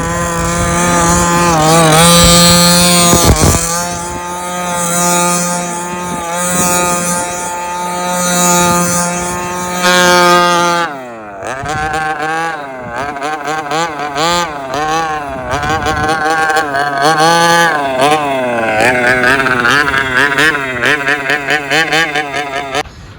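A 26cc petrol-engined Baja 5b RC car runs loud and close, its two-stroke whine holding steady, then cutting off abruptly and revving up again in rising and falling bursts as it drives.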